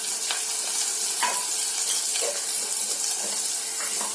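Tuna fish curry with turmeric and coriander being stirred in a hot pan: a steady, close sizzle with a few soft scraping strokes, no voices.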